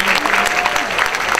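Brief burst of dense clapping from a school board meeting audience honoring student musicians, loud and close throughout, with a voice faintly mixed in.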